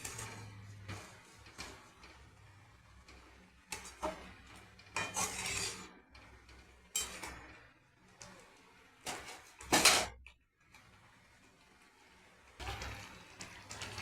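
A spoon scrapes and clinks against a pan while stirring an egg curry, giving intermittent rubbing and knocking strokes of varying loudness with quiet gaps between them and no talking.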